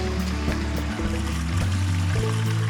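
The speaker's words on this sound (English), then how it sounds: "Now Tony's releasing the gray water" Gray water flows out of an RV holding tank in a steady, close gushing stream, with a low rumbling undertone throughout.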